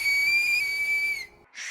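A loud, sustained two-finger whistle from an anime episode, one steady piercing tone held for over a second, then cut off sharply before a brief hissy burst.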